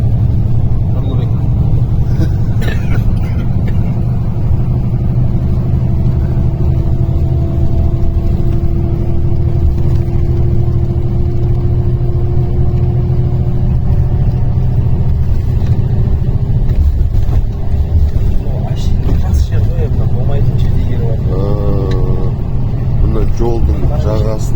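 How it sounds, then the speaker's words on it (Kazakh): A bus travelling along a road toward Urumqi in China drones with a constant low engine and road rumble, while people talk over it throughout. "Қазір бұны автобуспен келе жатырмыз"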